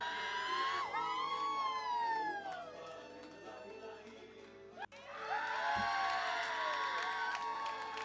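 A live concert crowd picked up on a crowd mic cheers faintly from a distance, with high, sweeping whistles rising and falling over a low murmur. A brief thump breaks in midway.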